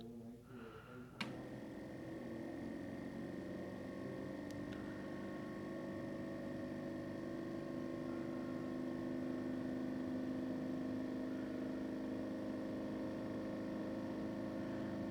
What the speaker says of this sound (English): And now just pressurizing the device to make sure it's holding pressure internally.